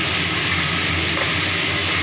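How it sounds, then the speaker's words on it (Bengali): Pieces of chicken frying in hot oil in a kadai give off a loud, unbroken sizzle that stays even for the whole moment. "চিকেনটাও ভেজে তুলে নিচ্ছি।"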